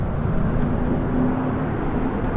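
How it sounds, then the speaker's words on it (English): Steady highway traffic heard from roadside beside a truck, a continuous low broadband roar of passing vehicles without distinct pass-bys, fairly loud and unbroken. "Traffic's pretty good today. We're on the highway."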